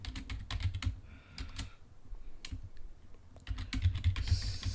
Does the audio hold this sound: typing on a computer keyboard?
yes